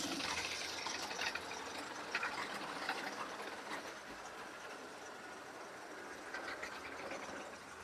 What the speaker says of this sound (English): I'm trying to run a train here with those fish vans